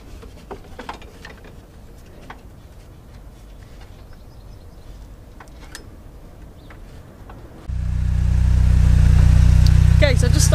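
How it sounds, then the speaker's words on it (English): A MINI Cooper R53 engine runs steadily after start-up, a loud, even idle drone that kicks in partway through following quieter tapping and faint background sounds. "I've just started the car up just to make sure it's all running correctly"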